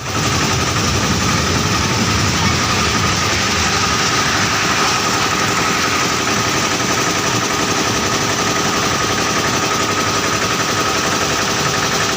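A train makes a loud, steady rattling rumble with a harsh, dense clatter that runs unbroken throughout, with no talk over it.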